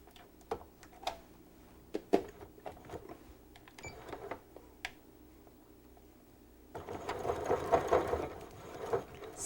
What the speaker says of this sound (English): First thing we need to do is stitch through the cord to secure the cord.